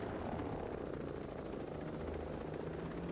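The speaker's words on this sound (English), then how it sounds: "How many helicopters are there?" Steady helicopter rotor thudding and engine drone in the video game Ghost Recon Breakpoint, loud and constant throughout, with no voices.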